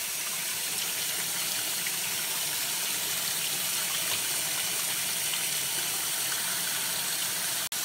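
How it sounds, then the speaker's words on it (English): A washing machine tub filling with water for dyeing clothes, a steady continuous gushing pour that holds even throughout before cutting off abruptly at the end, no speech. "we're going to fill it up, and then we're going to add in the dye and let it agitate. Okay, so the tub is almost full."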